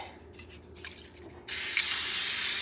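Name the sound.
spraying cooking spray onto a baking pan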